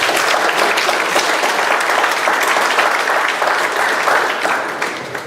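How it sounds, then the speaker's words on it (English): Dense, steady applause from a town hall audience gathered for a Senator Ron Wyden meeting, clapping loud and continuous for about five seconds before easing off at the very end. "So let's give him a round of applause."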